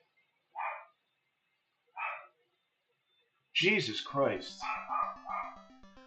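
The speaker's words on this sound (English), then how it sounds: "You can hear that my dog is barking." Two short, separate dog barks in an otherwise quiet room, then a voice speaking over electronic game tones.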